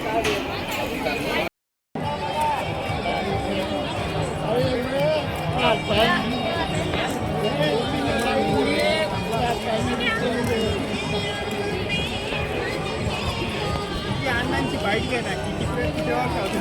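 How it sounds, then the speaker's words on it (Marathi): A dense crowd at the Sarangkheda fair, a festival with horses in Khandesh, Maharashtra, a continuous loud babble of many voices and movement close around, with a brief dropout near the start. "खूप प्रचंड गर्दी असते मित्रांनो ते."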